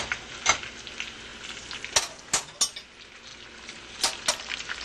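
Imitation lobster sizzles and fries steadily in a pan while a utensil stirs it, with several sharp scraping clinks against the pan at irregular intervals, close and clear with no talking.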